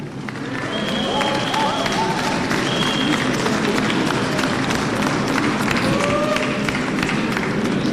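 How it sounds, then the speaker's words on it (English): A crowd at the closing ceremony of the All Africa University Games applauds in a steady, dense wash of clapping that swells within the first second and holds, with some cheering and voices mixed in. "A round of applause to the universities from Nigeria"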